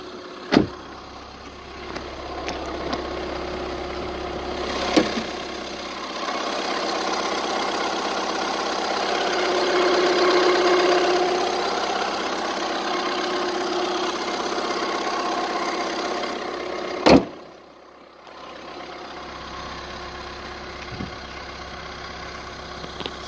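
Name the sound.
Skoda Fabia 1.6 TDI diesel engine idling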